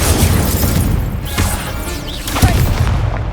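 Incendio fire spell cast in the Hogwarts Legacy video game, a loud whooshing burst with thuds and crackling that swells twice amid continuous game combat noise.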